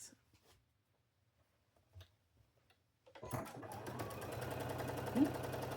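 A sewing machine stitches quilt block pieces for a farm-themed bee block, starting after a few seconds of quiet handling and running as a steady, close, rapid mechanical whir to the end.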